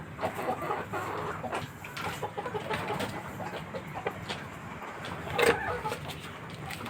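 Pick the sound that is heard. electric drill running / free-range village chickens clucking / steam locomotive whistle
free-range village chickens clucking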